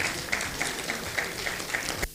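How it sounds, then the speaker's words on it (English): Conference audience clapping after thanks for psychosocial services work, a steady, moderately loud wash of many hands that stops abruptly near the end. "Another round of applause for them."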